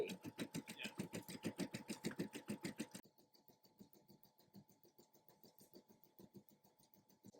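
Embroidery machine making small positioning movements and stitching, a steady rapid mechanical chatter that is loud at first, then drops to a quieter repetitive needle patter.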